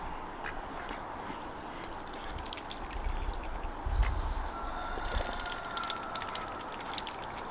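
Ducks on a rain-soaked farm pond give scattered quacks over a low rumbling background, moderately near and fairly faint, with no voices.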